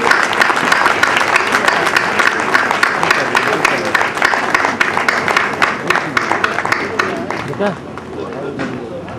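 Crowd at a community family gathering in Gorakhpur applauding, sustained clapping from many hands with distinct claps audible, a murmur of voices underneath, fading in the last seconds.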